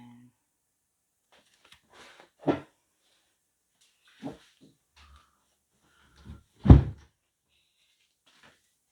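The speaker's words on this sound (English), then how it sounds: "I just shut my bathroom door" A bathroom door shut indoors, heard as a few short thuds and knocks, one louder bang near the end, with quiet gaps between them and no talking over it.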